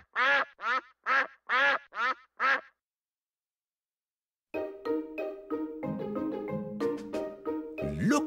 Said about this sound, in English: There are lots of ducks swimming in the pond.